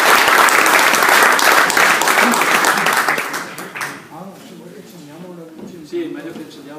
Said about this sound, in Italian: Vi lascio a lui, fatemi un applauso